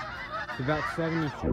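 Geese in a backyard give two clear nasal honks in quick succession, close and loud, with a brief bit of speech just before them.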